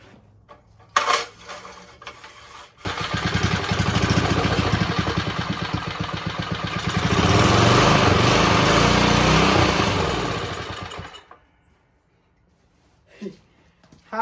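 A small rototiller engine cranks, catches and runs for about eight seconds with a steady rattling putter that rises in revs, then cuts out to near silence.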